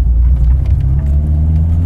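A 40 HP VW Mk1 Golf diesel engine pulling the car along a tight road, a loud, steady, low rumble heard close from inside the car.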